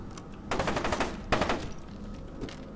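Two heavy pump-action shotgun blasts in the shooter game F.E.A.R., loud and close, each a sharp boom with a ringing tail, about a second apart and with no voices.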